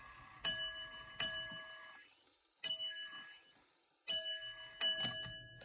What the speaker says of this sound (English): It has what is called the chime alarm